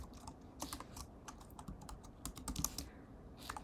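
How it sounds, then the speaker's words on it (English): Someone types on a computer keyboard with quick, irregular clusters of light clicks and taps at close range, with a brief pause near the end and no voices. "I will type this here."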